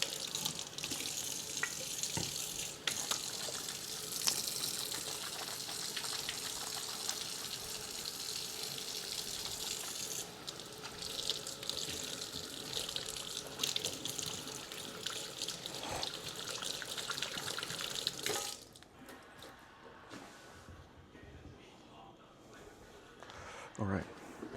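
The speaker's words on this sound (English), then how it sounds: "Let me wash my hands real quick." Hands washed under a running kitchen tap during sourdough bread making: water gushes and splashes steadily for about eighteen seconds, then shuts off, leaving faint drips and handling noises, with some talking.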